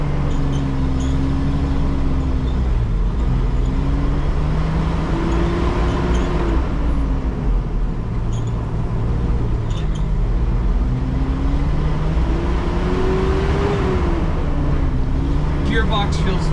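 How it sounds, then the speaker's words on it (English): A 1979 Toyota FJ55 Land Cruiser driving, its engine a steady low drone with slowly rising and falling pitch as it pulls through the gears, heard from inside the cab under continuous road rumble. "All right, let's drive Land Cruiser around for a little bit."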